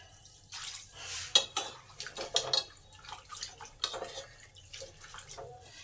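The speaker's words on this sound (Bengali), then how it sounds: "সবার প্রথমে মটরশুঁটির খোসাগুলোকে ভালো করে ধুয়ে নেব।" Pea pods are washed in water, with irregular splashes, drips and light sloshing, plus occasional clatter against a bowl. The sounds are close but quiet and come in bursts, with no talking.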